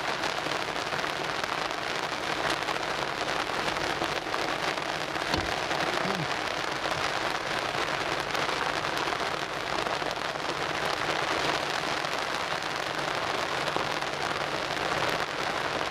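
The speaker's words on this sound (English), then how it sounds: "sheltering from this horrible rain" Heavy rain drumming steadily on a car roof at a railway transport rally in West Somerset, a dense continuous hiss that stays loud and even throughout with no talk.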